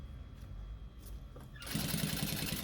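A sewing machine stitches through synthetic bag lining, running a backstitch at the start and end of the seam; a steady, rapid mechanical whirr kicks in after a quiet opening and carries on alone.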